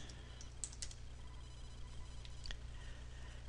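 A computer keyboard is tapped for a short comment: a few faint, sparse clicks over a steady low hum, with no voices.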